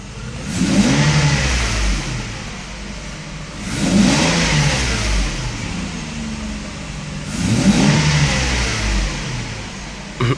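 A Mercedes S600 with a faulty original electronic throttle (Egas) module revs repeatedly, three rising engine surges roughly four seconds apart over a steady mid-pitched idle, close and loud with no talk.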